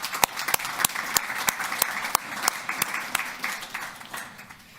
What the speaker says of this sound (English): just give a round of applause if we could.